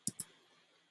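Two quick, close, crisp computer mouse clicks in a row, then quiet.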